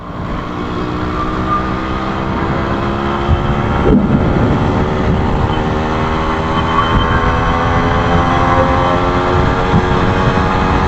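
A restored 1989 Yamaha RX100 motorcycle engine runs steadily with a constant, throbbing hum that holds close and fairly loud for the whole stretch, with no voices.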